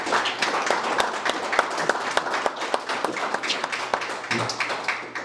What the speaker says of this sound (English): Let's give these doctors a round of applause.